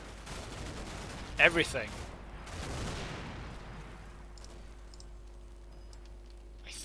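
Gunfire from a Wiesel vehicle in the Combat Mission Shock Force 2 video game comes as a sharp cluster of loud shots early on, then rumbling echoes under a brief spoken word.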